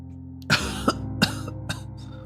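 A game character coughs in Honkai Impact 3rd: four rough, separate coughs spaced about a third of a second apart, fairly close and clear over a steady low background hum, with no talking.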